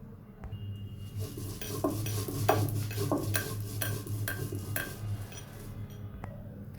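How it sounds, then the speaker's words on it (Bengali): Dried red chillies being ground on a stone slab for a dried-fish mash: steady, rhythmic scraping and rubbing strokes, close and moderately loud, with no talking. "আমি প্রথমেই শুকনো লঙ্কাগুলোকে বেটে নেব।"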